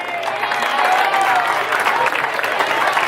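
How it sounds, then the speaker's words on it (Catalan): A crowd at a school festival gathering in Gilet gives loud, continuous applause, with voices and cheering mixed into the clapping. "Un fort aplaudiment"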